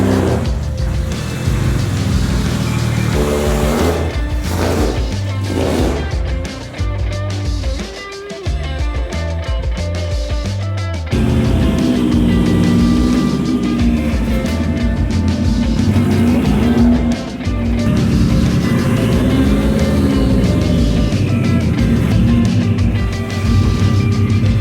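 A wrecked widebody Subaru WRX drives along, its engine loud and close, the note rising and falling through gear changes over a steady road rumble.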